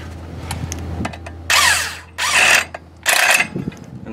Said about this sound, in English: Tighten your bolt up to the spec.